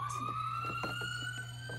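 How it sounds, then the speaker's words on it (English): A Dickie Toys ambulance truck's electronic siren wails steadily at a single held pitch, faint and thin with a low electrical hum beneath and light clicking, no voices. "when I press the button out here, it gives out the siren and the light."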